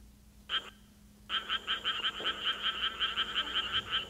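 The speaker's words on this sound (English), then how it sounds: "here is the Suwon tree frog species singing" Suwon tree frog calling in a rice field, a short note followed by a fast, steady run of repeated raspy pulses, clear and fairly close.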